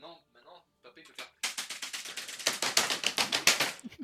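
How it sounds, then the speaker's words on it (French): A computer keyboard is hammered hard during a game, a rapid run of loud clattering key strikes that builds after a few spoken words at the start. "mon père, des fois, il défonce son clavier quand il joue avec Off Legend"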